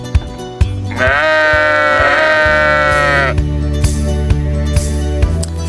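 A sheep bleats loudly and close by in one long wavering call, over a steady rhythmic thumping and clicking.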